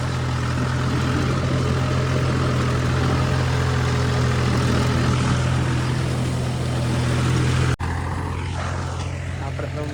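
A tractor engine drones steadily and loudly while ploughing a farm field, with a brief abrupt dropout near the end before the running continues slightly quieter.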